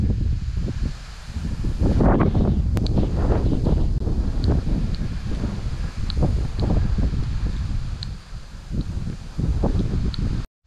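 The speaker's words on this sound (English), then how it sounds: "Very windy today." Strong wind buffets the microphone at Stodmarsh nature reserve, a heavy continuous rumble with gusting surges and rustling vegetation, and a few faint high chirps come through underneath.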